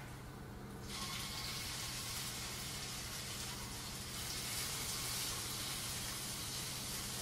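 Burgers sizzle in hot oil in a pan, a loud, steady hiss and crackle that jumps up after the first second as the patties hit the oil and then holds without a break.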